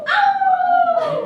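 A person imitates a wolf with one sustained, gently falling howl that is loud and close, given in a classroom game of animal sounds.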